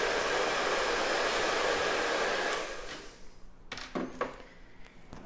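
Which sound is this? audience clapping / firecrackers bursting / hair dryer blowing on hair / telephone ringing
hair dryer blowing on hair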